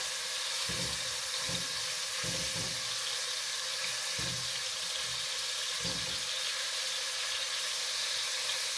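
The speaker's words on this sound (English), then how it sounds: "You hear that sizzle?" A constant bright hiss of steak bites sizzling in a pan, with a few soft low thumps scattered through, no talking.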